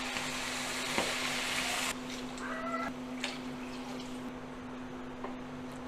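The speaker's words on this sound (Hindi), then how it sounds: "अब हम इसके अंदर डालेंगे पानी।" Water pours into a hot pot of fried chickpeas, tomatoes and rice for chana pulao, a loud bubbling sizzle that hisses under the stream, then softens into a quieter steady simmer.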